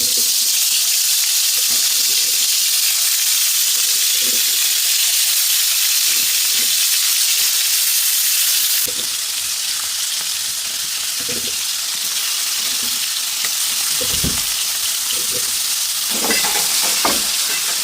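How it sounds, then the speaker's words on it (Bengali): Local koi fish coated in turmeric and chili frying in hot oil: a loud, close, steady hiss and crackle throughout, with occasional spits and pops and a brief shift in tone partway through. "দেশি কই মাছ হলুদ মরিচ দিয়ে মাখিয়ে নিয়েছি এখন ভাজি করব"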